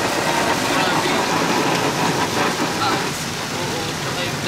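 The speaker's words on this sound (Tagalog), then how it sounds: "Ngayon lang ulit natin na-experience yung sobrang lakas sa ulan ah" Very heavy rain pouring steadily, a loud, dense hiss that stays constant throughout with no pauses.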